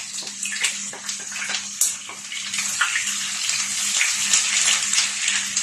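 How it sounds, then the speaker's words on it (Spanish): Chopped onion frying gently in a pan over low heat for a tortilla paisana, giving a steady soft sizzle with scattered small crackles and pops, with a faint low hum underneath. "ponemos la cebolla que se vaya pochando"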